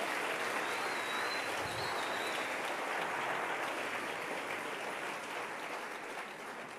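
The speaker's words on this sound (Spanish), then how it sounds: "Dele otro aplauso al Rey bendito." Applause from a church congregation, a dense wash of clapping heard at a moderate distance that carries on steadily and fades slightly toward the end.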